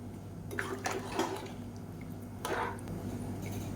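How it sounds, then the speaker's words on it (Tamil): Water poured into a pan of simmering cowpea kuzhambu, two short splashing bursts over a quiet low background hum, close by and with no talking. "இப்போ இந்த ஸ்டேஜில் குழம்புக்கு தேவையான அளவுக்கு தண்ணி சேர்த்துக்கலாம்"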